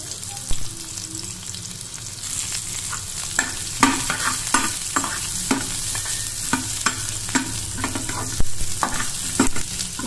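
Half a large onion frying and being stirred in hot oil for an Andhra-style brinjal masala curry, a steady close sizzle with repeated scraping stir strokes throughout.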